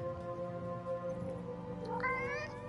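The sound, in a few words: cat meowing in the video game Forspoken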